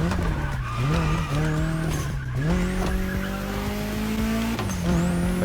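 In The Crew Motorfest video game, a racing car engine revs and shifts with rising and falling turbo whine, tire squeal and skidding, loud and continuous throughout.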